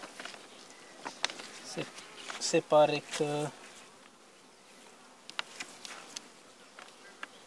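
Honey bees buzz around an open beehive, a soft, close hum joined by brief passing buzzes, while a person speaks quietly in the middle.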